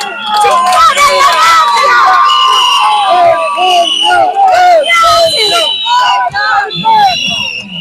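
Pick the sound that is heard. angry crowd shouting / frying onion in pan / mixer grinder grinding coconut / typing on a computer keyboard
angry crowd shouting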